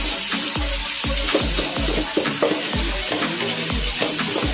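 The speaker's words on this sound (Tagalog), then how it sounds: "Lagay na po natin ng gigisa natin. Simula tayo sa bawang tsaka sibuyas." Garlic and onions sizzle in hot oil as they are sautéed, a steady frying hiss punctuated by a rhythmic series of close, loud knocks and scrapes from the stirring utensil against the pan.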